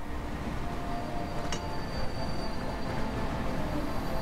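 A train in the rail-management game Voxel Tycoon rolls steadily through without stopping, giving a continuous low rumble with faint squealing tones and a brief high hiss in the middle.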